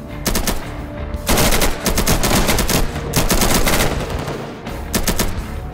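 Sustained machine gun fire in a WW3 zombies mod video game, loud and close, with rapid bursts broken by short pauses and overlapping shots throughout.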